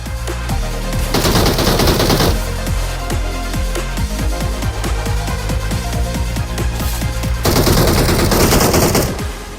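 Automatic gunfire in BGMI, the mobile battle royale game: loud, rapid machine-gun bursts crackle almost without pause, with denser volleys near the start and end and no voices over them.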